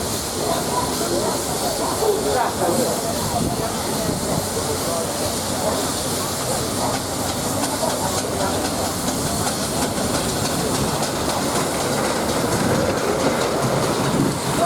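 A steam locomotive at the Tinkers Park steam rally gives a steady, loud hiss with a continuous clattering rumble throughout, while faint voices murmur in the background.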